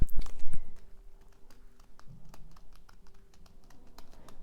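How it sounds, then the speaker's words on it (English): Rapid, uneven clicking of keys on a computer keyboard as a password is typed, close and fairly light, the keystrokes coming in quick bursts with no talking. "I can't type in my password."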